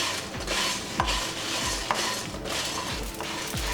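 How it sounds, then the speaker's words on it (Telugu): Phool makhana roasting dry in a pan without oil is stirred steadily, the spoon scraping and tapping the metal in a regular rhythm while the seeds rattle and rustle, with no talking. "దీన్ని డ్రైగా ఫ్రై చేసుకోవాలి, ఆయిల్ లేకుండా."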